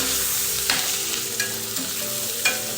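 Raw banana and capsicum sizzle and are stirred in hot oil for a Gujarati sabzi, with steady frying hiss and a few sharp scraping stir strokes against the pan.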